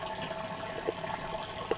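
Water from an aquaponics system runs faintly in the background outdoors on a windy day, a steady low wash with a few soft splashes.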